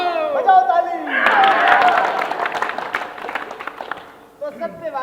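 Clapping at a theatre performance swells into a dense burst of applause in the middle, framed by voices and singing-like tones before and after, with the crowd noise fading out near the end.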